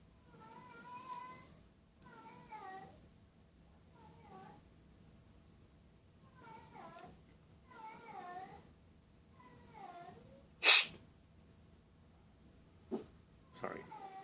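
A house cat meows repeatedly, with about six or seven moderate, rising-and-falling calls spaced a second or two apart, followed by a few sharp clicks and a thud.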